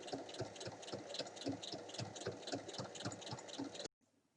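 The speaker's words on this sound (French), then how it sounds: "J'ouvre et je rabats et je vais faire une surpiqûre." A sewing machine runs steadily while topstitching a fabric pencil case, its rapid needle clatter continuous and close before stopping abruptly near the end.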